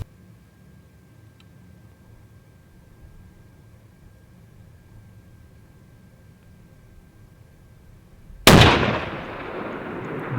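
A long-range rifle shot fired at an elk during a backpack hunt in New Mexico: one sudden sharp blast after a long quiet stretch, loud and close, then fading into a lingering echo.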